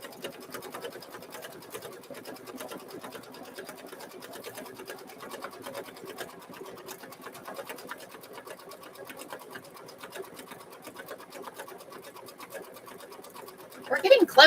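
A machine stitching a mug rug around a bow, a quiet rapid steady needle rattle running evenly throughout, with a louder burst of mechanical clatter at the very end.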